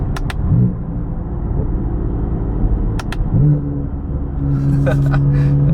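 BMW F80 M3 exhaust on paddle-shift downshifts, a low idling rumble broken by two brief blips with rising engine tone, sharp pops, and a steady drone near the end.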